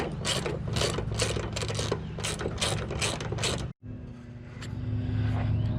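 Hand ratchet loosening fuel tank strap bolts underneath a 1994 Chevy, fast steady clicking strokes for several seconds, a brief pause, then slower ratcheting, close and loud.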